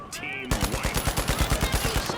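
A turret in the shooter video game The Finals fires a rapid, evenly spaced burst of shots, loud and punchy, following a brief moment of quieter game ambience.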